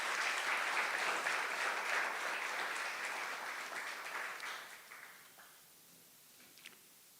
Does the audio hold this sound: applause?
yes